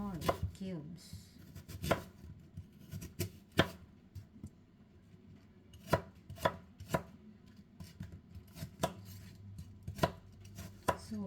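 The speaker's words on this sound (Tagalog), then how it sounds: "At ituloy ang pag-cut ng ating apple." A knife chops an apple into small cubes on a cutting board, sharp irregular knocks spaced a second or so apart, close and clear with no one talking.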